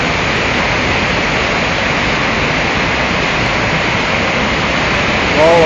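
A swollen river rushes under the Fourth Street footbridge carrying boards and debris from upstream, a loud, dense, unbroken roar of churning water close by; individual impacts on the bridge are not distinct.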